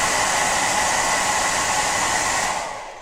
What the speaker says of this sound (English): a hairdryer. It does work!